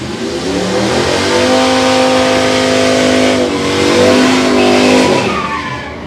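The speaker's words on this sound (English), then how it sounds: "Nice burnout from the, what was it," A drag-racing car, apparently a Chevrolet S10, does a burnout at a dragstrip: a loud, close engine holds a high rev with a rising, wavering pitch over tire squeal before easing off.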